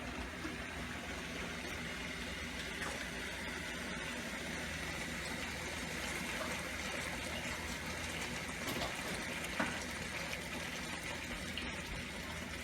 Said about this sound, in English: If I want not too thick, I can put little bit water.